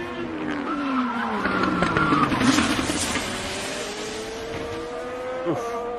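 The number 28 DHL IndyCar, driven by Romain Grosjean, crashes at the exit of turn 4, with loud tire squeal and skidding over a racing engine, then a thudding impact.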